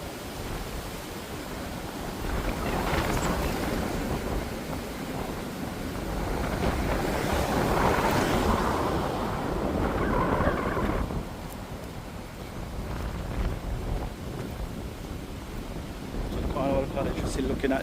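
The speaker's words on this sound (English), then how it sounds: "So it's very windy today. A lot of wind is blowing." Strong wind gusting across an outdoor microphone at Montego Bay, a steady broadband rush that swells and eases in waves over the whole stretch, with faint voices underneath.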